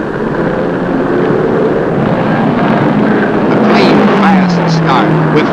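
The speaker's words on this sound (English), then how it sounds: "Here they come into the last corner and heading for the green flag and lap number 1." Stock cars at the 1953 Darlington Southern 500 roar loudly through the final corner toward the green flag, a continuous dense engine drone with a pitch sweeping down as cars pass, under an announcer's commentary.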